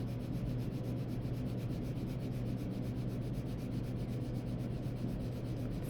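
Prisma colored pencil shades back and forth on paper in a steady, continuous rub close to the mic, an even scratchy texture with no pauses and no voices.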